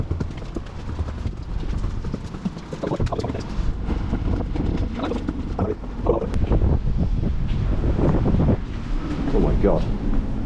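Strong gusting wind on a 16th-floor rooftop of an abandoned tower buffets the microphone in a constant low rumble, swelling and easing throughout with no break.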